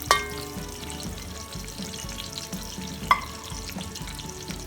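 Onions fry in hot oil with a close, steady sizzle and crackle, and two sharp clinks of a utensil against the pan cut through.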